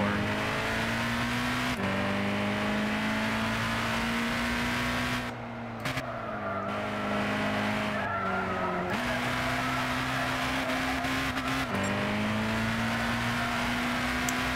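A Japanese GT500 race car engine pulls hard on track, a loud, steady high drone rising through the gears with brief dips at each shift and a short lift in the middle.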